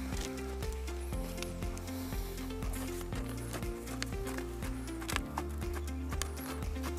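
A mare that is slightly sore walks in jumping training, her hooves striking in a steady, soft rhythm beneath continuous background music.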